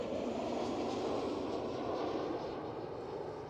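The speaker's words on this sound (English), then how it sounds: "Next one up, KLM City Hopper E190." A KLM Cityhopper Embraer E190 jet at Amsterdam Schiphol gives off a loud, steady broad roar that holds throughout and eases slightly toward the end.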